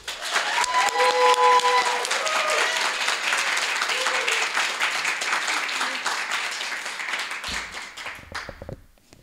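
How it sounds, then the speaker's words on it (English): An audience at an Asian American storytelling show breaks into sustained applause with a few whoops, loud at first and gradually thinning before trailing off into near silence. "So please give a round of applause for V."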